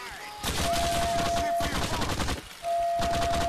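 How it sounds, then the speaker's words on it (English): Gunfire in GTA IV: The Ballad of Gay Tony, loud dense bursts of automatic fire in two long stretches separated by a short pause, with a steady whistling tone over the shooting. "I'm shooting the shit out of all of you"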